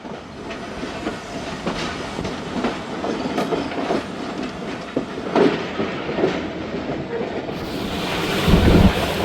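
The Khyber Mail train picks up speed on an improved stretch of track after leaving Kanpur, with continuous rumbling and rattling of carriages, repeated wheel clacks and strong wind rush, heard from on board.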